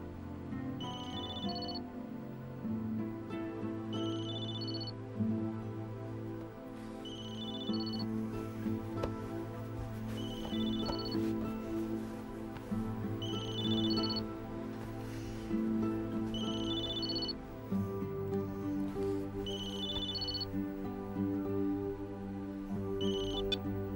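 A telephone rings in a home, a repeating electronic ringtone that sounds in regular bursts about every two seconds over a quiet room with a low background hum. No one speaks.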